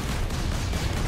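Explosions in the Warhammer 40K video game, a dense, continuous roar of blasts and gunfire filling the short stretch at loud level.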